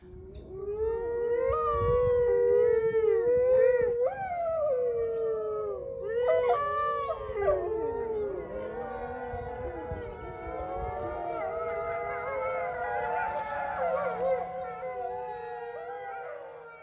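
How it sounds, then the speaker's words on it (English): A chorus of wolves howling together, long rising and falling wails overlapping into a sustained layered song, loud and close at first and continuing throughout with no talk. "The chorus of wolves are singing their hearts out."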